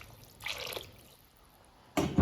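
Water poured into a pot of bottle gourd tamarind curry (sorakaya pulusu), two short liquid pours with splashing and trickling, close and moderately loud, separated by a quieter pause.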